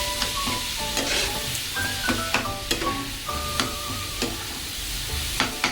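Modak filling being stirred with ghee in a pan: repeated close scraping strokes and clinks of the spoon over a steady soft sizzle, with no talking.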